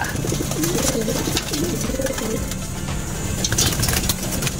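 Pigeons cooing in a loft of racing birds, soft repeated coos layered over constant rustling, scuffing and background clatter.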